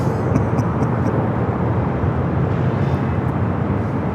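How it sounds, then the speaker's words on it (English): A charter flight aircraft lands at LAX airport, its engines a loud, continuous low roar with a broad rumbling wash that stays steady throughout. "Alright, so that is a charter flight."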